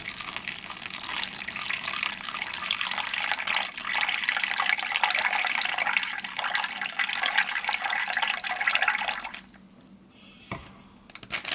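Water pours steadily from a bottle into an MRE pouch, a continuous filling gush lasting about nine seconds before stopping, followed by brief faint rustling.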